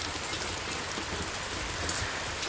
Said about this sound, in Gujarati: આપણે આજે ગામડે વરસાદ આવી ગયો એટલે કે ધોધમાર વરસાદ છે